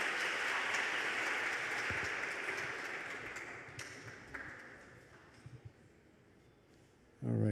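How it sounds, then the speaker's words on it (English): An audience at the Orangeville contest applauds with a dense clatter of clapping that gradually thins and fades to scattered claps, then a brief loud burst comes at the end. "Another big round of applause for Julia DeCetto, ladies and gentlemen."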